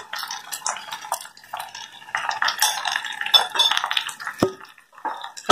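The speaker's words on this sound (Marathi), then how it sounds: "हे मसाला पण एक दोन मिनिट तेलात भाजून घ्या" A spoon stirs and scrapes masala roasting in oil in a pan for Maharashtrian ridge gourd bhaji, with peanut powder, salt, jaggery, chili and turmeric, giving close, continuous scraping and clinking with a light sizzle, no talk.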